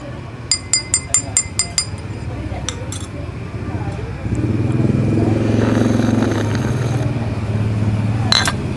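A spoon stirs Vietnam coffee in a glass at a cafe, giving a quick run of about seven bright clinks followed by a few more, then a motorcycle engine rumbles nearby and drowns out the stirring.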